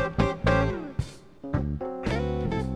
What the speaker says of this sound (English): So what you're hearing is a 4-part bass, drums, piano, and guitar WAV file